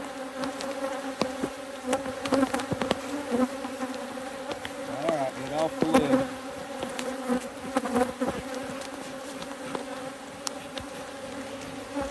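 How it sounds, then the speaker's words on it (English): Honey bees buzz steadily around an opened beehive, a dense close-up drone with passing individual insects, while someone speaks briefly over it. "Try not to mash no bees. Let them get out of the way."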